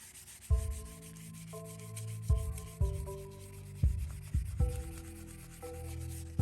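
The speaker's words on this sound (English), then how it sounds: "and resand it" Hand sanding a Tesla Model 3 wheel rim to repair curb rash. About a dozen back-and-forth strokes, each with a squeaky, tonal rubbing note, sound close and fairly loud, with no talking.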